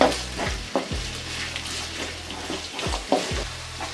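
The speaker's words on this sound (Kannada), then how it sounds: "ಈರುಳ್ಳಿ ಚೆನ್ನಾಗಿ ಫ್ರೈ ಆಗಬೇಕು" Onions fry in oil for cabbage palya, a steady close sizzle broken by repeated scraping stirs of a spatula against the pan every second or so.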